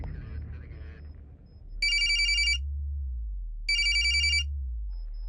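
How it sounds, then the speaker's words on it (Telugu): A telephone rings in two loud electronic bursts about two seconds apart, each trilling for under a second, set against a low steady hum after muffled movement at the start; no one speaks. "సార్ రింగ్ అవుతుంది"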